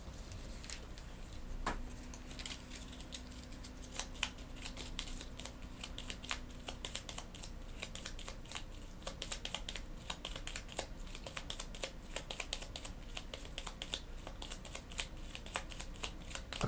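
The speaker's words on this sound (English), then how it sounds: "We'll shuffle his deck up." Cards riffled and shuffled during a tabletop board game, a quiet run of crisp papery ticks and flutters close by with no talking.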